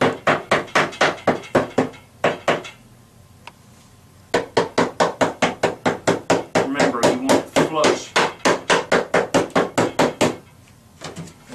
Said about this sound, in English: you'll need the hammer to just tap it in there